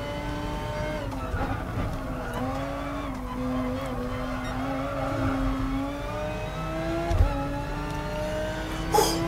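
A race car in Gran Turismo Sport is pushed hard, its engine howling in a loud sustained tone that climbs and drops through gear changes, with a brief thump and tire noise near the end.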